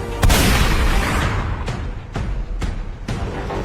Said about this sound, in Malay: Kemudiannya melepaskan tembakan.